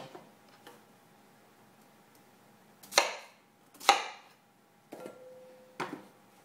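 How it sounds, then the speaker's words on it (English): A knife cuts a yam in half in a kitchen: a few sharp, close chopping knocks against a board, spaced irregularly over a quiet background. "So cut your yam in half"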